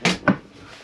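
The grey blade handle of a motorhome cassette toilet in a Chausson Welcome 75 slides shut, giving two quick close scraping clacks about a quarter second apart, followed by a faint fading residue.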